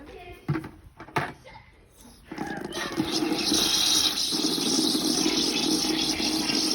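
Water runs steadily into a bucket, a continuous rushing fill that starts after a few knocks and handling noises and keeps going loud and close.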